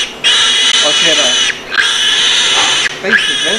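Piglet on a 1985 Danish pig farm squeals loudly and shrilly while held for castration, three long piercing cries with brief breaks between them, very close.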